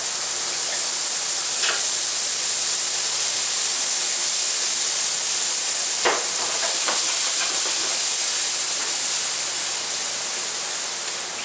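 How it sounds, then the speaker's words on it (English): Shallots and garlic sauté in olive oil for chicken marsala, a constant broad hissing sizzle up close, dotted with a few sharper pops and spatters. "Sauteed up the shallots and the garlic, just like that."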